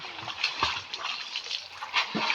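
Children swimming in a village pond, splashing and sloshing water in uneven bursts with a few louder splashes, close by, without voices standing out.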